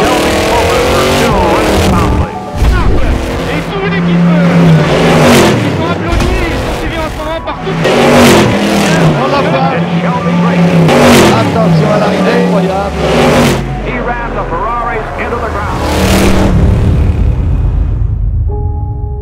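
Shelby Daytona Cobra race cars roar past in an endurance race as night falls, engines rising and fading in repeated loud pass-bys, with music or commentary layered over the racing noise.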